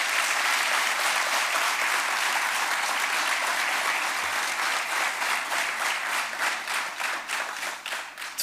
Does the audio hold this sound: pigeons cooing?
no